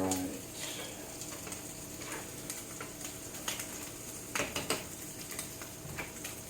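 Sausage fries and browns in a pan with a soft, low sizzle, broken by a few sharp clatters of a utensil against the pan near the end.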